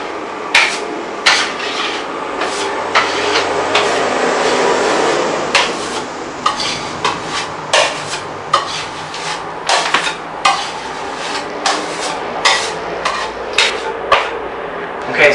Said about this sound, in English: I'm just going to pick it up here with this 4-inch knife.